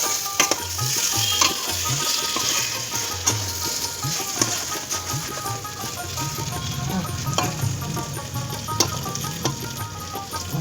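Potato, pointed gourd and fried Gobindobhog rice are stirred together in a hot pan, a steady scraping and clatter over a constant sizzle, with occasional sharp knocks of the spoon against the metal.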